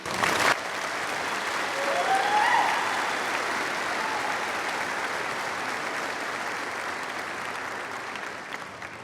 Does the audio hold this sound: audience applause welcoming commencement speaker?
yes